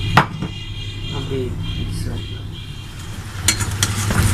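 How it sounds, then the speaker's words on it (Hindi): Chicken sizzling in a pan for a black pepper chicken karahi, a steady soft frying hiss with a couple of sharp clinks of a spoon against the pan, while someone talks over it. "उधर से चिकन भी फ्राई हो रहा है"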